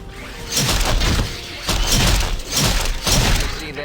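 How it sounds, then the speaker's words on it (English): A magic missile spell cast in Planescape: Torment, four or five loud whooshing blasts that each build and hit, one after another at close range, with no talking. "magic missile"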